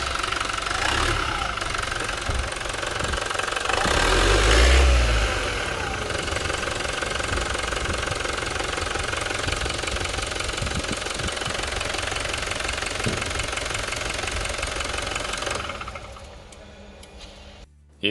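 A 2021 Toyota Fortuner 2.8 4x4's 2.8-litre diesel engine idles up close with a steady, clattering knock, briefly swelling louder around the fifth second, then settling before dropping away near the end.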